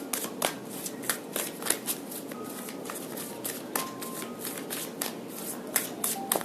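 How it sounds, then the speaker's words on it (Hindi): Tarot cards riffled and shuffled in quick, crisp flurries, close and continuous, with a few separate card slaps as cards are drawn. "चलिए और भी कार्ड्स हम लेते हैं"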